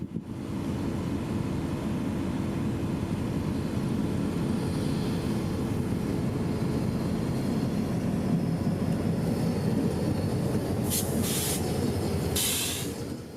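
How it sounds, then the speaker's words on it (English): A heavy freight train led by an EMD GP38-2 locomotive rumbles steadily past an intermodal train up close, a dense low roar of engines and rolling wheels, with brief high metallic squeals near the end. "FEC's Job 70 approached northbound, passing an intermodal train on the main."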